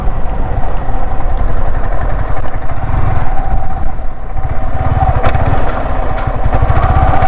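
A motorcycle engine idles close by on a sunny red-sand road in Tamil Nadu, a loud, steady, throbbing putter that holds evenly throughout with no voices.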